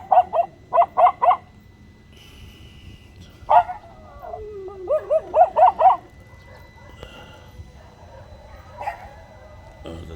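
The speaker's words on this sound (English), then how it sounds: "It's a cacophony of dog barking." Neighborhood dogs in the Philippines bark in short clustered bursts of three or four, some near and some farther off, with quieter gaps between the volleys and a faint background of other sounds.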